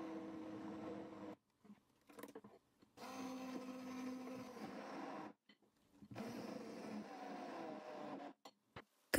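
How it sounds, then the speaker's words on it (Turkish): An electric blender whirs through a batter of grated potato and zucchini in a kitchen, running in three short bursts with brief pauses between, fairly close. "bu karışımı blenderla çekelim"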